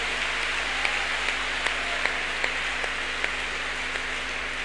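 Congregation clapping hands at a church deliverance service, a steady wash of applause with sharper isolated claps standing out, fairly faint and distant, with no talking over it.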